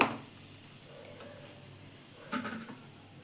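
Asafoetida hits hot oil in a wok with a brief sharp sizzle at the start, then a faint steady frying hiss, with a small stir or clatter near the end.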